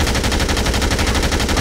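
Loud, rapid machine-gun fire in the zombie game Dead Rising 2, a steady unbroken stream of shots with an even rhythm and no voices.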